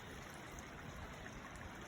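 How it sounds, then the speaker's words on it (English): Storm runoff water trickles steadily and faintly down into a large puddle after a storm, a soft continuous flow with no voices. "See how the water's coming down? And it's going down into this big puddle."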